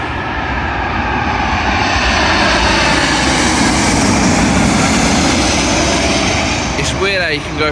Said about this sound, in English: Arriving in now is an American Airlines Boeing 777, I believe, working a service from Charlotte to London Heathrow.